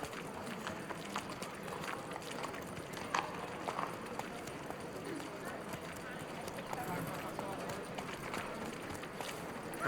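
Roach the horse gallops in The Witcher III: Wild Hunt, a quick, even drumming of hooves that stays near and steady throughout while voices talk over it.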